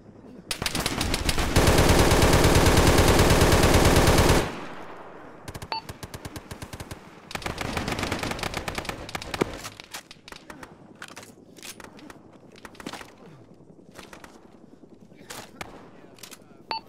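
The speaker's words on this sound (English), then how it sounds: "We're taking fire from the north on the yellow team." Heavy automatic gunfire crackles in a long sustained burst during a ShackTac military video game battle, then gives way to scattered individual shots and footsteps. Faint voices talk in the background.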